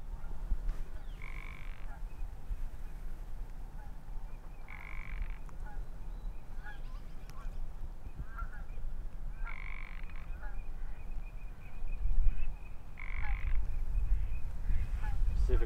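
Pacific chorus frogs croak in repeated bursts every few seconds, a raspy two-part call over a low outdoor hum, fairly close and clear.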